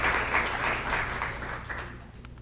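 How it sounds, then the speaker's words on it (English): Audience applause fills a city presentation hall, a dense steady wash of clapping from a crowd that tapers off slightly toward the end. "Let's give them a big round of applause"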